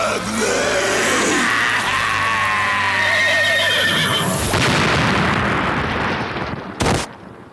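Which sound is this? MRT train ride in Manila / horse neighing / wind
horse neighing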